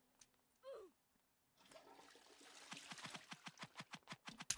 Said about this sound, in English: I just hear the flush.